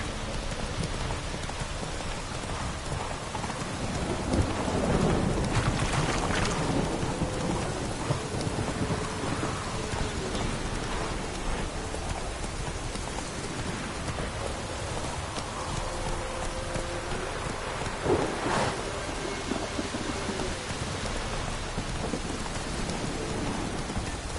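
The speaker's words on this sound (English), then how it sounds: "Lightning strike." Thunderstorm in The Witcher 3 game: steady heavy rain hiss throughout with rumbling thunder and a sharp lightning crack near the end, no talking.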